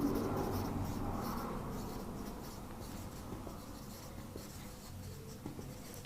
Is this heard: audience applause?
no